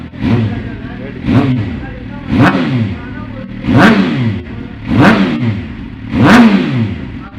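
A 2014 Suzuki GSX-R 750 sport motorcycle engine revs repeatedly, about six sharp rising-and-falling throttle blips in steady rhythm over a low idle, loud and close.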